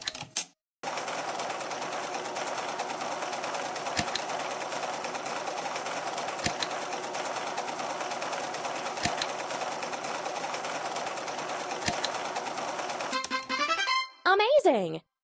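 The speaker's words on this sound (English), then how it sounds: "Let's sew the pieces together." A sewing machine in an Android fashion dress-up game stitches clothes with a steady, continuous mechanical buzz for about twelve seconds, then chiming game effects play at the end.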